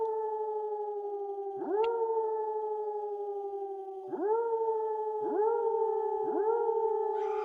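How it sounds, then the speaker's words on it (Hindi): Dogs howl in long, drawn-out wails that overlap and sustain for the whole stretch, with fresh rising howls starting again and again at a steady volume and no talking. "तुम्हें कुत्तों के रोने की आवाज आ रही है?"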